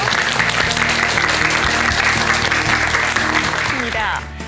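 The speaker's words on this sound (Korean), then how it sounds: "우리 박사님께 큰 박수 한번 좀 부탁드릴게요." Steady, dense applause from a studio audience at a Buddhist-practice lecture broadcast, loud and continuous for several seconds before trailing off at the end.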